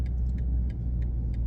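A 2023 BMW XM parks itself with a low steady engine rumble inside the cabin, punctuated by regular high ticking beeps from the parking sensors, roughly three per second.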